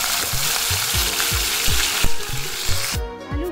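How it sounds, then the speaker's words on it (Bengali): Potatoes fry in hot refined oil, a loud steady sizzle with a repeating ratchet-like clatter and a brief change in tone near the end. "তাহলে প্রথমেই শুরুতে আমি আগে তেলের মধ্যে আলুগুলো দিয়ে ভেজে নিলাম।"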